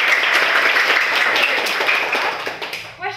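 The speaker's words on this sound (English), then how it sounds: "So you all deserve a round of applause" Classroom groups get a round of applause after answering a science quiz question: dense, steady clapping from many hands at close range, thinning out and ending with a few scattered claps.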